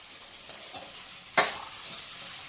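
Garlic and tomatoes for a chutney fry in a pan under a soft sizzle, with a few scraping stirs and one sharp clatter of the utensil against the pan.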